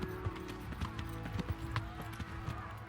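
A horse gallops in the medieval video game Kingdom Come: Deliverance, its hooves striking in a steady, fairly loud clip-clop rhythm over a low ambient hum, with no one speaking.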